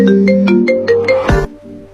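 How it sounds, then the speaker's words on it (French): Phone ringtone trilling loud and close as a call goes out to a friend, a rhythmic melodic pattern of repeated tones cut off abruptly after about a second and a half. "Attends, j'appelle ma copine Nama"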